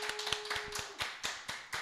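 Scattered hand claps ring out in a quiet room during a Wednesday church service, a sparse and uneven patter of light taps in applause for a single in-person attendee.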